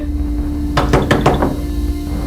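Someone knocks on a wooden door: a quick burst of about five sharp raps, close and distinct, over a low steady hum.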